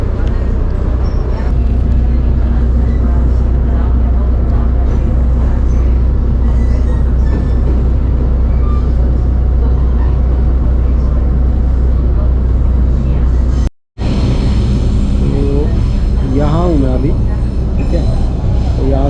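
A small, slow children's ride train rolls along at a marine science museum in Taiwan, giving a steady low rumble and rattle throughout, with a brief dropout near the end and a voice imitating the chugging.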